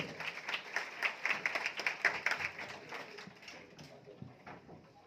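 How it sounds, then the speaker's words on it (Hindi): Applause from a large audience filling a big hall at a celebration event, a dense, steady patter of many hands that thins toward the end. "तो एक बार जोरदार तालियां इनके लिए"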